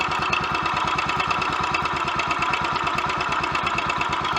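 A rebuilt Royal Enfield Electra X motorcycle engine idles at a quickish, steady tickover, a loud close single-cylinder chugging with an even, rapid rhythm throughout and no talking.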